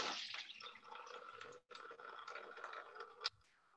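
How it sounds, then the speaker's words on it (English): Water poured into a cup for a static-electricity demonstration, a soft splashing trickle that runs for a few seconds with a brief break and a small clink near the end, fairly quiet and close. "So I'm putting water in here."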